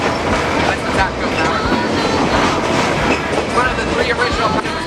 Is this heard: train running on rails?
yes